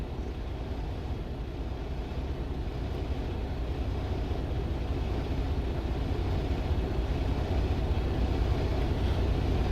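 A truck rolls slowly around a truck-stop parking lot off I-20 at exit 52 in Minden, Louisiana, in the middle of the night, its engine a steady low rumble with road noise that holds even and continuous throughout.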